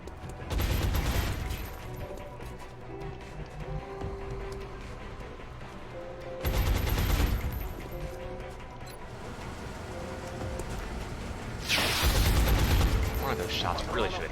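Gunfire in the video game XCOM Long War comes in three loud, dense bursts of shots and blasts over steady game background noise, with a voice speaking between them.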